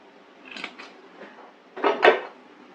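Pan and cooking utensils handled while preparing to fry fish, a few light clinks and scrapes followed by a louder pair of knocks near the end, close and isolated.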